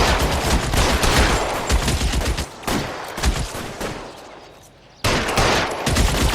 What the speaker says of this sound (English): Shooter has a machine gun. He's emptied 2 clips into the bunch.